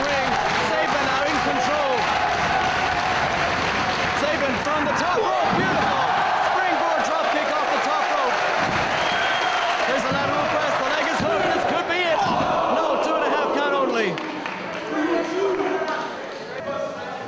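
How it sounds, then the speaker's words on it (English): Heavy slams and thuds of wrestlers hitting the ring mat during a 2005 IWW Supershow match in Dublin, recurring irregularly under continuous excited commentary and a loud arena crowd. "Scoop slamming the larger Darren Burridge."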